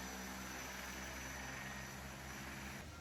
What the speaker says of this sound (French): Malgré son angoisse de monter dans cet avion, Anso est soulagé d'échapper au 4x4.